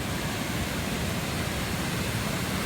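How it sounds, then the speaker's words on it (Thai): Tat Chanan Waterfall beside a stone bridge in Seka district, Bueng Kan, Thailand, pouring as a steady, dense roar of rushing water that stays loud and even throughout, with no voices. "น้ำตกที่ผม กำลังจ้องมองอยู่ตรงนี้"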